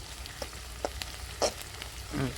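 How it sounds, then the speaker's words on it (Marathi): Kanda pohe (flattened rice) stirred with a spoon in a pan, with a few soft scraping strokes and a faint frying sizzle, quiet and close with no talking. "आता त्याला पुन्हा आपण थोडा चमच्याने हात लावूया असे करू का मिक्स"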